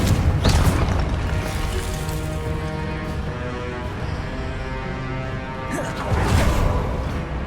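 A spell-cast explosion booms twice in Hogwarts Legacy, a blast near the start and another near the end, over dense in-game music and combat effects.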